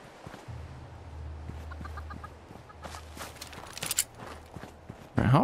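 A chicken clucks in Fallout 76, a few short, soft clucks in the middle of the clip over low game rumble and faint footsteps, followed by a louder burst of noise at the end.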